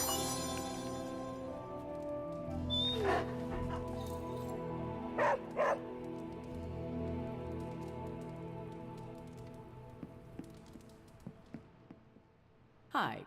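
Charlie, a hellhound dog in Marvel's Midnight Suns, gives a few short barks over a steady layer of game music and rain-like ambience, moderately loud against the background.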